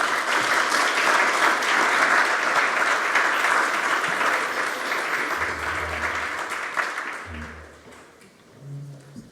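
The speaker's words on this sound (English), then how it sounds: "Let's give our speakers a well-deserved round of applause" A conference audience gives panel speakers a long round of applause on an innovation event stage, loud and dense at first, then gradually thinning and fading, with a few voices talking near the end.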